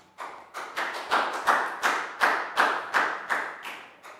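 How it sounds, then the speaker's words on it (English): A classroom of students claps for a pupil in a slow, spaced rhythm, about a dozen separate hand claps arriving evenly, each a crisp burst with a brief decay. "High five and big round of applause for Pat."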